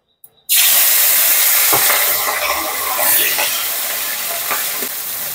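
Small fish (chuno puti) frying in hot mustard oil in a wok, a steady loud crackling sizzle after they drop in, with occasional stirring clicks and no talking.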